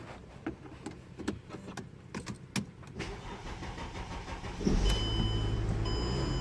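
A Mercedes BlueTEC diesel car starts with a newly made key: light clicks and mechanical ticks, then the engine cranks and catches about two-thirds through, settling into a steady diesel idle nearby.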